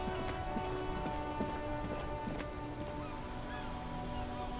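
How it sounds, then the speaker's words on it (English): Steady rain in the video game Disco Elysium, a continuous soft patter of drops on surfaces with a faint background hum and a few light taps, heard alone without talk. "Doesn't look like it's raining, but the sound is still there, so it's probably still raining"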